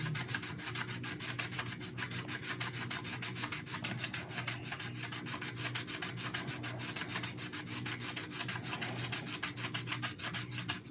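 A Nobler model aircraft part is sanded by hand with sandpaper wrapped on a finger, giving a fast, continuous back-and-forth rasping that stays steady, close and quiet with no speech.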